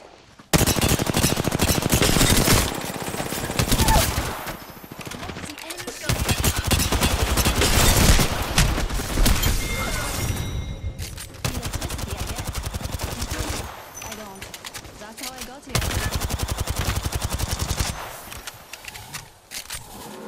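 Apex Legends gunfire comes as long, loud bursts of rapid automatic fire, broken by brief pauses, with dense continuous shooting that stays close and dominant throughout.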